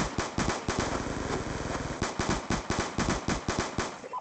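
Rapid bursts of automatic gunfire ring out in Black Ops II as players shoot down an aircraft, loud and close, coming in quick repeated volleys with short gaps between them.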